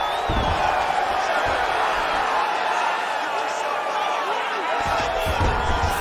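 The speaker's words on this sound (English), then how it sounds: "the crowd pops in appreciation" A crowd in a PS5 UFC bout between Kelvin Gastelum and Choi Doo-ho keeps up a continuous roar of cheering under a commentator's talk.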